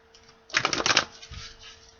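A burst of crisp riffling and flapping, like a deck of cards being shuffled close by, lasting about half a second before fading to quiet rustles.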